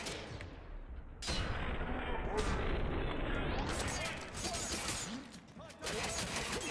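Heavy, rapid gunfire from a powerful cannon-like weapon in the shooter game F.E.A.R. 3, loud and dense with sharp bursts and booming impacts filling the whole stretch, with game effects layered over it.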